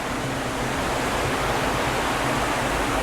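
Water pouring steadily down Galapitiyaya waterfall, a continuous, even broadband rush close by with no pauses or voices.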